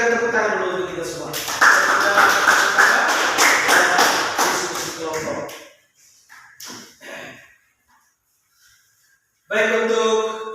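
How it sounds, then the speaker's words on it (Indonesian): Clapping from a class during an online lesson, a dense burst of hand taps that runs a few seconds, then stops abruptly into near silence with a few scattered sounds, before a voice resumes. "Sekali lagi kita berikan tepuk tangan dulu untuk kita semua"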